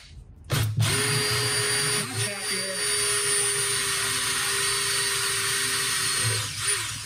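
A cordless drill with a hole saw cuts through wood, a loud, steady whine holding for several seconds after a sharp start, then easing off.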